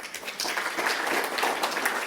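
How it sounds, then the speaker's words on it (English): Round of applause from attendees at a medical AI bootcamp on pancreatology, dense clapping that rises quickly and holds steady at moderate loudness. "Let's give Boglarka Huddleton a round of applause."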